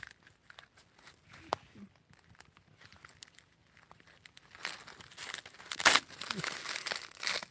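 Soft, many-layered paperbark tree bark pressed by hand, producing faint crinkling and crumpling rustles in scattered bursts, growing louder toward the end.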